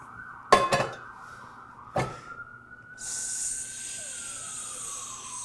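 A faint, distant emergency vehicle siren holds a slowly gliding tone outside while a carbon steel pan and utensils clatter loudly up close in a home kitchen.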